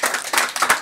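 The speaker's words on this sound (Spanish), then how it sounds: "Un aplauso para el Señor Jesucristo." A church congregation claps during a sermon, a few close, uneven hand claps in under a second.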